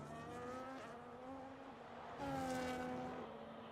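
Race cars in a sim racing game brake hard into turn 8 of a Brazil circuit. Steady, loud engine tones shift pitch, then surge louder partway through, with no talk over them.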